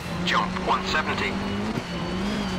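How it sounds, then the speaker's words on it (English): Rally car with a broken gearbox in a sim rally game on a stage at Rallye Yukon Puebla, giving a steady engine drone under whining, sweeping gear and rev tones. A co-driver's voice calls notes over it. "Sounds like the gearbox is broken"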